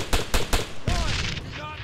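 Gunfire in the video game Arma 3, with three quick, loud, closely spaced shots followed by a longer burst and a ringing tail, close by.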